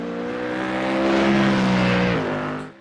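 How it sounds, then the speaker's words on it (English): A Mustang GT3 race car in a racing sim at Imola, its engine droning loudly at high revs with a steady pitch, then shifting and fading as it passes. "that beautiful sounding Mustang"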